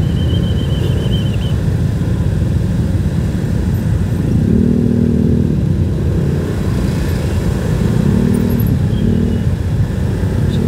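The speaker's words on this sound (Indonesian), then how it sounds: "ditambah dengan padatnya kendaraan yang dari arah timur menuju ke arah barat" Dense road traffic of cars and motorcycles heading east to west past a holiday homecoming security post, a steady loud engine rumble with passing vehicles swelling now and then, no voices.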